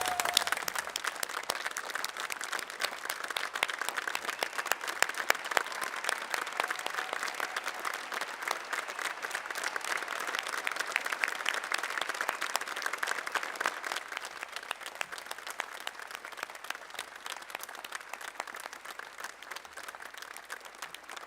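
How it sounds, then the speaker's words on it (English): A large graduation ceremony audience gives sustained, even applause that holds steady for over twenty seconds, a dense wash of many hands clapping at once. "give a round of applause for everybody who has"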